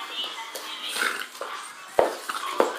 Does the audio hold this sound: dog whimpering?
yes